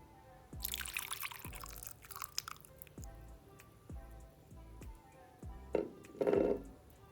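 Lime juice being poured into a homemade mixture, a series of close wet drips and splashes falling one after another, then a brief louder liquid gush near the end, no talking.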